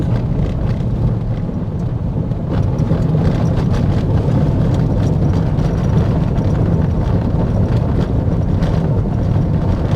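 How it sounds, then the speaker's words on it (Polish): A bus rolls along a rough, rocky road, its engine drone and body rumble steady and loud throughout with constant low-frequency buffeting, no voices. "posłuchajcie i zobaczcie jak wygląda droga, którą teraz jedziemy"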